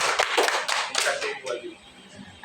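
A classroom group of mothers clapping, a short burst of close, dense claps that fades after about a second, with some light speech and chuckling mixed in.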